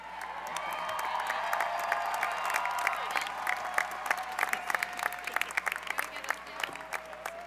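Applause from a large crowd at a university commencement ceremony for nursing and health professions graduates, building into steady, dense clapping with scattered louder claps, heard somewhat distant in a big hall.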